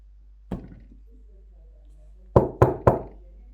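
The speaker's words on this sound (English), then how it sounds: "Remember that knock? Did I tell you that knock?" Knocking on a hard surface: one isolated knock, then after a pause three quick sharp knocks in a row, close and clear with no talk.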